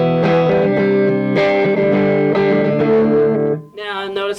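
Clean electric guitar chords ring out through an amp, dry with no reverb tail, strummed in a few sustained strokes before a brief pause.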